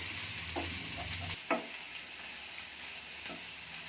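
Mixed vegetables with chilies frying in oil in a pan over a medium flame for vegetable kurma, a steady close sizzle broken by a few brief stirring scrapes, no talking.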